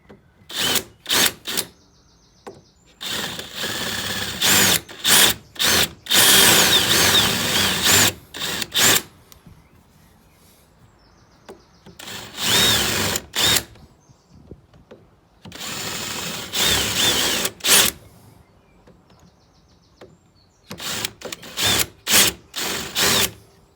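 A power drill works in repeated bursts on a Canta LX microcar during small repair jobs: several loud whirring runs of a few seconds each, separated by short pauses, with quick blips at the start and end and no talk.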